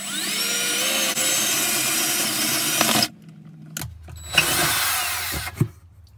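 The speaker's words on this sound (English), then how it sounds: "Let me go ahead and drill." A power drill bores a hole into the wall of a Jayco travel trailer, whining steadily and loudly for a few seconds, then stopping and starting again in short bursts.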